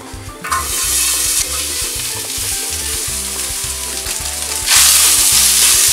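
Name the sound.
chopped pork meat frying in a pan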